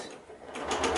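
A sewing machine quilting along a ruler, giving a short fast mechanical whir with rapid needle stitching that picks up speed, close and clear.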